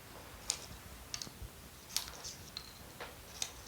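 A child snips paper with scissors in short separate cuts, a few crisp quiet clicks spaced about a second apart, close by with no talking.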